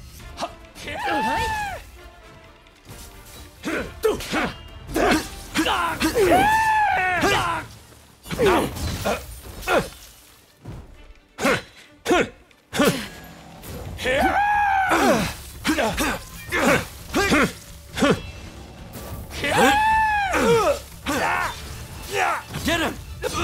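Enemies in the samurai action game Rise of the Ronin let out repeated exaggerated groaning screams, several loud strained cries with short gaps between bursts.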